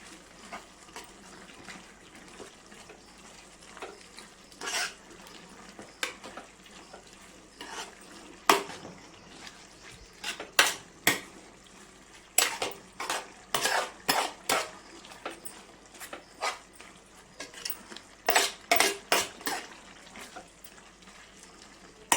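A spoon stirs chili powder into goat tripe curry in a metal pan, making repeated close scraping clinks that come in uneven bursts over a quiet sizzle, with no speech.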